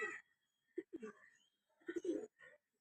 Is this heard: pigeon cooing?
yes